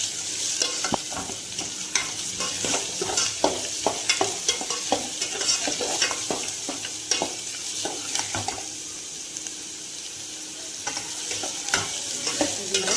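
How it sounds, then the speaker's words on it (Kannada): Onions frying in a pan and being stirred, with a steady sizzle broken by frequent scraping strokes of the spoon, close and continuous with no talk. "ಸ್ವಲ್ಪ ಗೋಲ್ಡನ್ ಕಲರ್ ಆಗೋ ತನಕ ಇದನ್ನು ಈರುಳ್ಳಿನ ಫ್ರೈ ಮಾಡ್ತೀವಿ"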